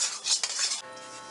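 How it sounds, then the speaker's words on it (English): Olive oil being stirred into a honey and yeast mixture in a bowl, a brief burst of close utensil clatter and scraping against the bowl, then quieter. "Stir in 1/3 cup of olive oil."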